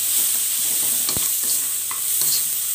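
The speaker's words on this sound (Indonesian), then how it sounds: "Kemudian kita aduk rata" Water spinach sizzles in a hot pan while a utensil stirs in salt and seasoning, with a sharp scrape or clack in the middle and a few softer taps.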